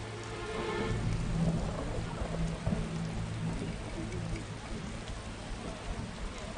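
A downpour with rolling thunder in The Witcher video game's temple quarter, loud continuous rain hiss layered over a deep low rumble, with no talking.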